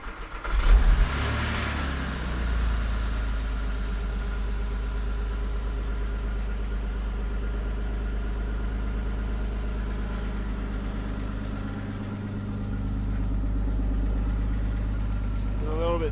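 A Porsche Boxster, overfilled with oil, smoky and slightly ticky, idles steadily as it warms up, a deep constant engine hum close by with a brief rev at the start and no talk over it.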